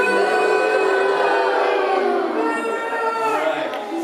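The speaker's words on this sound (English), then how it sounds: "Good booing, very good booing." A school assembly audience boos together, a loud, sustained crowd of young voices drawing out one long jeering sound that tails off near the end.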